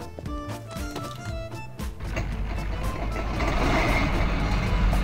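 A vehicle engine starts in Garry's Mod, with a short run of electronic beeps giving way to a rising, steady rumbling engine drone that grows louder and fills the rest of the clip. No one talks.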